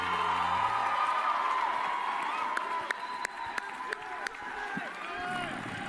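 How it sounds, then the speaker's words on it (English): A large convention audience at Politicon applauds and cheers in a dense, steady wash of crowd noise that holds for the whole stretch, with a few sharper claps and shouts poking through and some talk mixed in. "I want you to give a huge Politicon round of applause"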